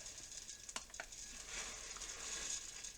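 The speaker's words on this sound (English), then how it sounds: "and I'm going to stir it" Cracked wheat stirred into Armenian chicken pilaf in a pan, a soft continuous scraping and sizzling hiss with a couple of brief clinks near the start, steady and close.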